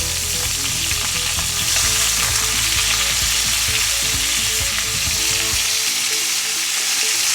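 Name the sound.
pork shoulder browning in a pan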